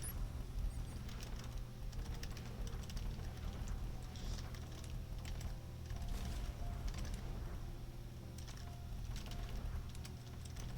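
Keyboard typing during play of the Z-Type typing game, heard as a steady, fast patter of clicking keys close to the microphone. It runs continuously over a low hum, with no voices.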